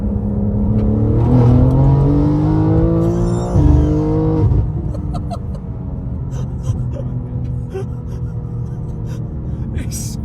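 A BMW G87 M2 tuned past 700 hp accelerates hard through a gear pull, its engine note climbing steadily then dropping sharply at a shift around four seconds before settling into a lower, steady drone with faint cabin noises.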